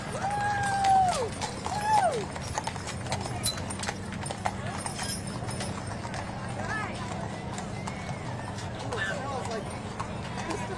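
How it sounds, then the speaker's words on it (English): Horses' hooves clip-clop on pavement during a Veterans Day parade, a steady stream of light knocks heard with a crowd in the background. "There's something soothing about the clip clop."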